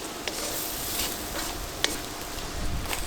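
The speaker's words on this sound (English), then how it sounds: "we'll start stirring that around. So we just want to cook this tomato paste a little bit." Tomato paste stirred and cooked in a pan over an outdoor fire, a steady bright sizzle with soft scraping strokes and one sharp tap, close and alone.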